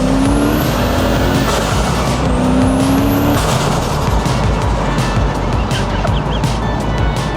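A TVR sports car fitted with a cheap tractor turbo accelerating hard in second gear at full throttle, a loud, dense engine roar with rising whine and a gear change partway through.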